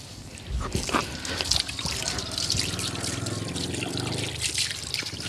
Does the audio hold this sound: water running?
yes